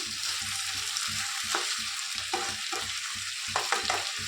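Turmeric, tomato and spices stirred in a hot pan, a continuous close sizzle with regular rhythmic scraping strokes of a spoon, no voices.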